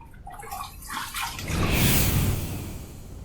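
Running water rinsing after a wet shave, a loud rushing tap stream that builds and stays steady close by, with a few splashes before it.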